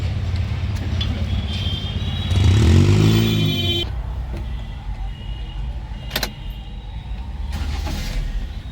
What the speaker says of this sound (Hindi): गाड़ी हो गई स्टार्ट